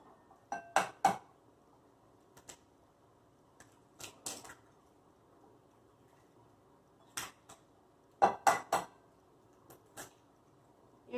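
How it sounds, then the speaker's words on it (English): Eggs being cracked into a separate bowl for apple cinnamon scones, sharp clustered taps and clinks against the bowl rim in several brief bursts, separated by near silence. "in a separate bowl now, you are going to crack your eggs"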